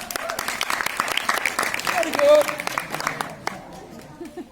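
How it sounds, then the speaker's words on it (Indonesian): Audience applause during a donors' visit, a crowd clapping steadily through the clip while someone speaks over it. "Wow, tepuk tangan."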